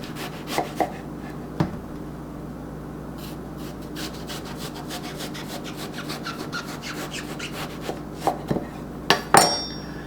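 A knife cuts an eggplant into quarter-inch slices on a board, a low rubbing scrape broken by a few sharp taps as the blade meets the board, closer and clustered near the end, with no talking.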